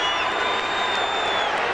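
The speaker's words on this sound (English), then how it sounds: "the capacity crowd here at Fenway giving it to him" A capacity crowd at Fenway Park jeers a pitcher during a 2003 Yankees at Red Sox game, a dense sustained roar with whistling, with no clear talk over it.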